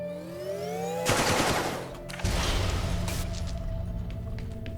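Rapid turret fire in The Turing Test, a dense rattling burst that starts abruptly, breaks off briefly, then resumes and continues steadily over a sustained tonal background, with no voices.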